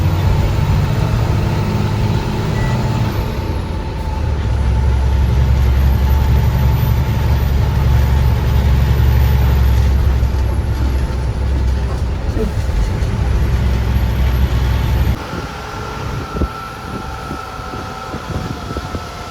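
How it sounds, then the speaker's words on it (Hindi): A Rashiya Mahadev bus overtaking on an Uttarakhand hill road, a heavy engine roar swelling and passing close by, then fading into lighter road noise and rattles, with some talking. "फिर कुछ ही देर में पीछे से आ रही रशिया महादेव वाली बस ने हमें ओवरटेक किया।"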